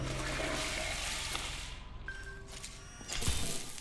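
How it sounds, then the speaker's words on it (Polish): Water running from taps in the Kvark video game, a steady rushing flow with a brief tonal blip and a louder splash near the end, with no talk over it. "Puśćmy wszędzie wodę."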